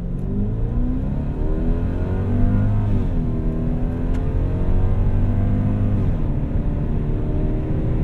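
A 1998 Lexus GS400 accelerating hard on an open road, its engine droning loud and steady from inside the cabin, pitch climbing through the revs with two smooth automatic upshifts that briefly drop the tone.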